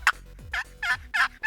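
A Quick Change wooden turkey box call gives a series of five short, sharp clucks with brief pauses between them, close and clear with no other sound.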